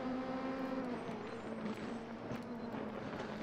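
An LMP2 race car engine roars steadily on a racing simulator track, a loud sustained tone with shifting pitch and no talk.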